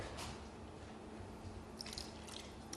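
Three-quarters of a cup of water poured into a bowl of cake mix with lemon jello, a faint, soft trickling and dripping that is quietest at the start and sharpens toward the end.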